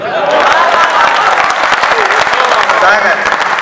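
An audience at a Hindi comedy poetry recital breaks into loud, sustained applause and some cheering, with a voice talking over the clapping from start to finish.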